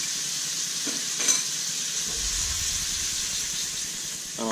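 Shrimp cooking in a little olive oil in a pan, giving a continuous bright sizzle and hiss with a faint stir, close and unbroken, no voices.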